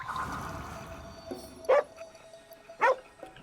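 Dog barking and whimpering in the video game Ghostwire: Tokyo: two short, sharp yelps stand out over soft ambient game sound, with a faint whine between them.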